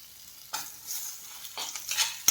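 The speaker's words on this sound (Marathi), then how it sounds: "कांद्यावरती थोडंसं तेल टाकून आता तो फ्राय करून घ्यायचा आहे." Chopped onion frying in a little oil, with soft scraping and sizzling bursts that start after a near-silent opening and swell in short strokes toward the end, quiet and close.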